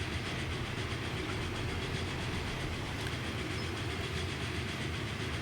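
Train rolling along rails in Transport Fever 2, a steady close rumble with rhythmic clickety-clack of wheels, continuous and alone without talk.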